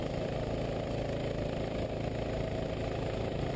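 A go-kart engine at the GoPro Motorplex track on a drizzly day, a steady buzzing small-engine drone at moderate level, constant with no speech over it.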